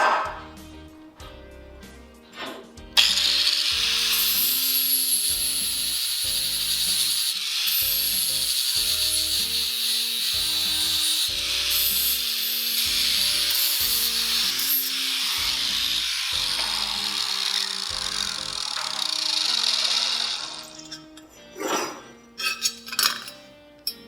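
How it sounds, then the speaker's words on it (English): A grinder works steadily and loudly for about seventeen seconds on the neck and weld of a motorcycle bagger frame, then breaks off into a few short, scraping bursts. "we're going to grind the neck and clean up this weld down here"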